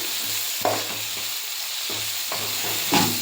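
Frying and stirring in oil for an avarekalu (field bean) sambar, with a steady close sizzle and several scraping stirs of the spoon against the pan, no voices.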